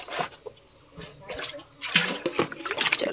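Water poured and splashed while rinsing something dirty outdoors with water carried from a tap, intermittent gushes and drips that grow louder toward the end, with brief voice sounds between.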